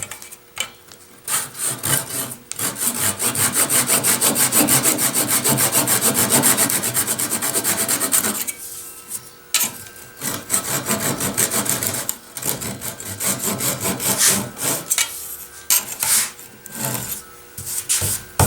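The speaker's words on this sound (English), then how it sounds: "So we'll use this to saw away the excess." A hand saw cuts away excess wood during a dovetail joint repair, sounding as steady, close rasping strokes that run long and continuous before breaking into shorter, choppier strokes, with no talk.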